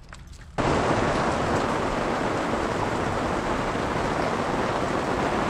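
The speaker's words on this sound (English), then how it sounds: "It is pouring rain." Heavy rain pours down steadily on a bikepacking trail, a dense, loud broadband hiss that switches on abruptly after a brief quieter moment and then holds constant with no voices.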